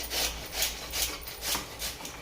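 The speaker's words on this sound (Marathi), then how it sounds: "आता हे दोडके मी असेच मोडून घेते आणि हे बघा, किसणीने असे किसून घ्यायचे." Ridge gourd scrapes rhythmically across a hand grater, with about five rasping strokes close up at a steady pace.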